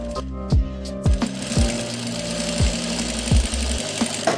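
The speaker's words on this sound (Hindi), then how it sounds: "और ये मैं इसके साथ जो पहले सिलाई लगाई है पैर की सिलाई लगा रहा हूँ" A sewing machine stitches the leg seam of a heavy Patiala salwar, running in short bursts with a repeating mechanical thump that starts and stops several times, close and fairly loud with no talking.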